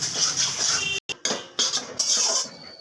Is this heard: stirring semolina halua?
yes